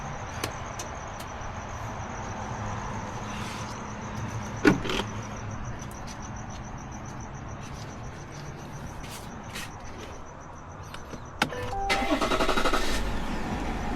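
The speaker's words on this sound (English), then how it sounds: "Let me start up the car." A 3.0L Duramax turbo diesel engine in a 2021-2024 Escalade, Tahoe or Yukon SUV starts up near the end, after clicks and faint mechanical noises inside the vehicle, then settles into a low rumble.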